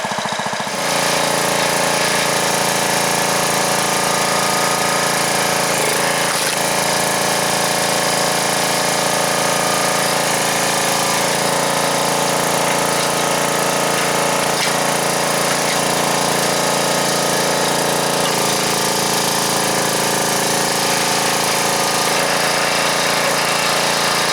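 A log splitter runs loudly and continuously at close range, its engine drone and mechanical clatter holding steady with a few brief shifts as logs are split; no talking.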